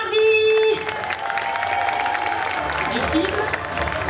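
Audience applause and cheering greet a costumed Barbie cosplayer at a geek convention cosplay parade, a steady wash of clapping with a brief whistle or shout at the start and voices mixed in throughout.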